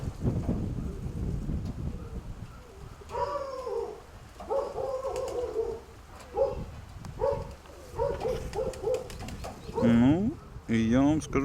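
A pigeon, a bar-tailed bird in a loft flock, settles in to land and then coos in soft repeated phrases close by, with bursts of fluttering and quiet background noise.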